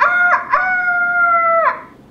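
A voice imitates a rooster crowing, giving one strained cock-a-doodle-doo of about two seconds, close and loud, that breaks into a long sustained high wail and trails off.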